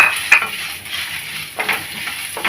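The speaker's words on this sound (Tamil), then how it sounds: "இந்த டைமில் இந்த வெங்காயத்தையும் போட்டு விடலாம்" Onions tipped into a hot frying pan of oil with fried lentils and chillies for carrot chutney set off a steady, close sizzling hiss, with a few brief scrapes and clinks of stirring.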